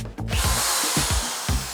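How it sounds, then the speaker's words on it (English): A rotary drill brush scrubs the cloth seats of a Mini during a full interior detail, giving a loud, steady motor whine with repeated rising and falling pulses of pitch as the bristles work against the upholstery. "then out came the dreaded drill brush"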